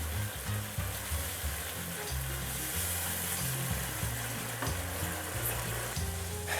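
Kofta curry masala fries with ginger garlic paste in a steady, dense, loud sizzle that fills the whole clip, close and unbroken, with faint stirring beneath and no talk.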